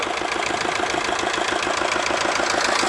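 A farm vehicle engine runs steadily at close range on a potato field during the last harvest, a continuous rumbling idle with faint knocking texture, holding constant loudness and no talk throughout.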